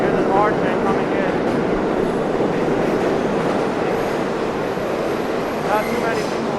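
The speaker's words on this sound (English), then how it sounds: "Here's an R train coming in." An R train on the New York City subway pulls into the 5th Avenue station in Manhattan, a loud, continuous rumble of rolling wheels with faint squeals, close by and steady throughout.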